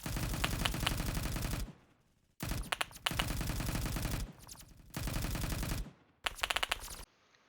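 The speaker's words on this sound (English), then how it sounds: "you can see he's shooting the guy" Automatic gunfire in the Roblox shooter Phantom Forces: four long, loud sustained bursts of rapid machine-gun fire separated by brief pauses, close and dominant with no talking.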